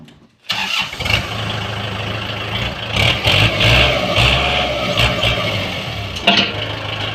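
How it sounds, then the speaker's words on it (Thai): A Kubota L5018DT tractor's diesel engine cranks and catches, then settles into a loud, steady rumbling run close by, with brief rises in revs. "เดี๋ยวพาฟังเสียงเครื่องกันครับ"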